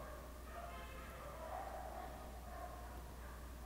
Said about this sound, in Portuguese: A próxima coisa que eu lembro é de de cachorros latindo